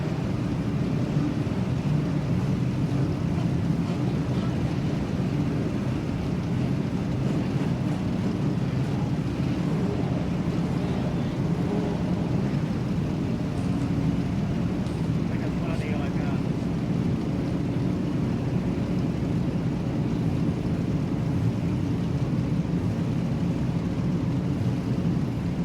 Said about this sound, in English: You can hear these engines revving on the limiter.